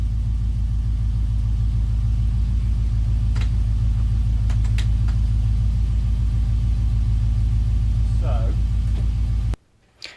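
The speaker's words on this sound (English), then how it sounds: "So that's one hell of a noise with the transfer box." A Range Rover L322's failing transfer box grinds and rumbles steadily with a rough, repetitive mechanical churn, loud and close, then cuts out abruptly near the end.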